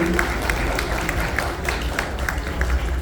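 Audience applause at a Mother's Day gala, a steady wash of clapping from a crowd with some voices mixed in, moderately loud throughout.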